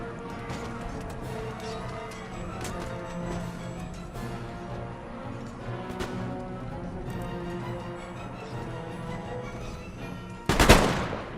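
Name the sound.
artillery firing in Empire Total War video game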